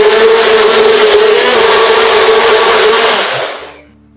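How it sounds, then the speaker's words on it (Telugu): A mixer grinder blends weight-loss drink ingredients with lemon juice and water, a loud, close, whirring roar that runs steadily and then spins down to silence near the end. "దీంట్లో లైట్గా వాటర్ యాడ్ చేసి మిక్సీ చేయాలి."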